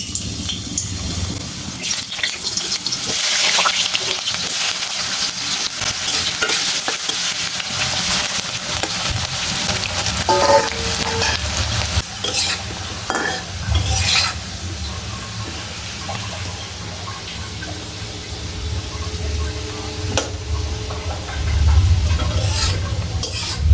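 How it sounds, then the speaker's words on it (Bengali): Potato pieces fry in hot oil in a pan for a prawn curry, giving a steady close sizzle with occasional stirring and scraping throughout. "আলুগুলোকে সুন্দর করে ভেজে নেব।"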